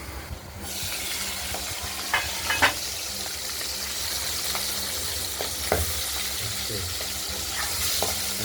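Bacha fish fry in hot oil under a covered pan, a continuous close sizzle broken by sharp pops and spatters scattered throughout, with occasional stirring clatter and no talking.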